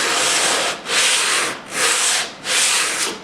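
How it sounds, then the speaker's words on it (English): Sandpaper is rubbed by hand along a glued plywood edge in four even, rasping back-and-forth strokes, close and steady with brief pauses between them. "I'm just going to lightly run some sandpaper across it"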